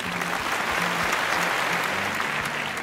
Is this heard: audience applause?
yes